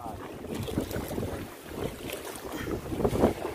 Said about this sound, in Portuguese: O vento é duro, galera. O vento é puxador